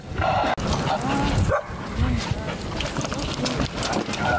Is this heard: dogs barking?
yes